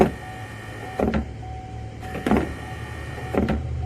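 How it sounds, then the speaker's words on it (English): Electric windshield wiper motor running on its own, wired to its switch and tested off the car, giving a faint steady whir broken by three short mechanical clunks spaced about a second apart. "we're about to see how this motor runs by itself"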